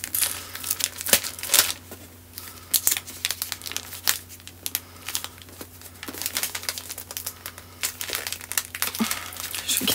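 Plastic wrapping around a book crinkles and tears in repeated close bursts as someone struggles to open it, busy irregular rustling without speech.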